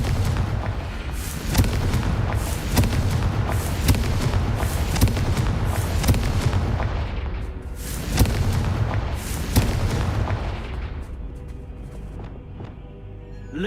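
Repeated booming blasts of the Confringo fire spell in Hogwarts Legacy, loud and close, bursting every second or two over a dense rumbling game soundtrack that thins out toward the end.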